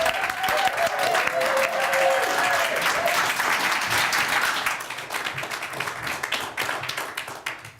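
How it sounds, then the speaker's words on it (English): A crowd at an awards ceremony applauds steadily, dense clapping that starts strong and gradually thins out toward the end. "Round of applause to Debbie."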